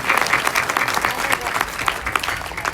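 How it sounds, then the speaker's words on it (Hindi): A live audience at a Shiv Amrit Katha religious gathering in Bilaspur, Yamunanagar claps together in dense, steady applause for nearly three seconds, loud and continuous throughout. "एक बार चाहता हूँ घरों के लिए जोड़ लगा करके ताली बजाएं।"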